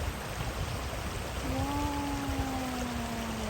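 Water rushes steadily through a wild, clear stream in a natural river setting, a constant broadband wash of flow close by, with a faint thin tone gliding through the second half.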